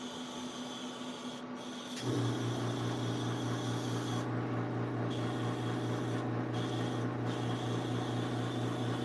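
A steady airbrush hiss begins about two seconds in and runs continuously, with a low compressor hum underneath.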